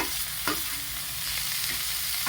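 Vegetables are stirred and roasted in a pan for a sandwich filling, a steady sizzle and frying hiss broken by a few scraping stirs of a spatula, close and continuous.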